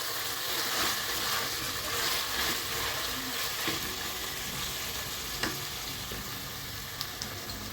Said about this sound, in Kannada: ಕೊತ್ತಂಬರಿ ಪುದೀನ ಎಲ್ಲ ಬೇಗ ಬಾಯ್ಲ್ ಆಗಿಬಿಡುತ್ತೆ, ಹಾಗೆ ಫ್ರೈ ಆಗಿಬಿಡುತ್ತೆ